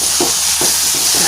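Dried fish sambal frying in a pan over a lowered flame while being stirred, a steady close sizzle with a few soft, evenly spaced scraping strokes through it.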